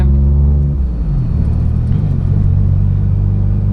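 A car pulls away in first gear over a speed breaker, its engine rumbling loudly and steadily as the revs drop and then hold low, with no talking.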